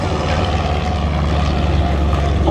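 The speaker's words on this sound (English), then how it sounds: "left to right, the first of the Fokker DR1s" A replica Fokker Dr.I triplane from a Great War display team flies overhead at the Duxford airshow, its engine a loud, steady, rough drone throughout.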